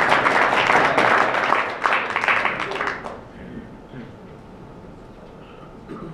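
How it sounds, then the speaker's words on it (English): Workshop participants on a design-storytelling session break into applause, a dense burst of clapping for about three seconds that then tapers off quickly, leaving quiet room tone with a few scattered sounds. "Applause for everybody."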